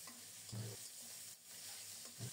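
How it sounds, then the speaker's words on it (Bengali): Fish and potato pieces frying in oil in a home kitchen, a faint continuous sizzle with a few soft low knocks from the pan, no talking. "মাছ আর আলু ভাজা হচ্ছে"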